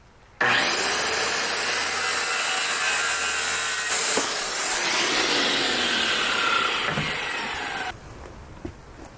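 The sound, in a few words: improvised table saw cutting wood window trim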